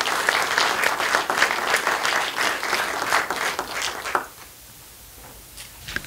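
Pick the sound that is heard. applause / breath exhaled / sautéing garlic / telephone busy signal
applause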